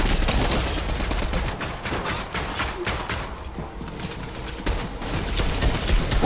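Rapid machine gun fire rattles through a Fortnite match in dense, loud bursts of overlapping shots that run almost without pause from start to finish.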